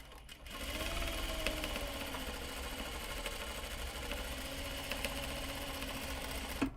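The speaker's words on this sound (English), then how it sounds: "let's sew this curve here" A sewing machine stitches a curved seam on a knot bag, a steady mid-pitched mechanical whir running close and continuous for several seconds before it stops.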